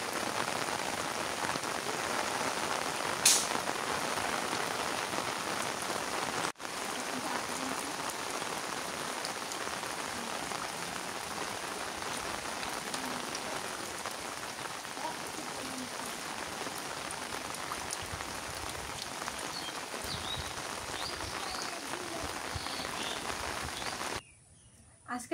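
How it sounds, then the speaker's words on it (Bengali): Rain falls steadily on a village on a rainy day in Jyoishtho, a dense, even patter close by that continues without pause, with faint bird chirps and a sharp knock early on. "আর বৃষ্টি অলরেডি পড়তেছে"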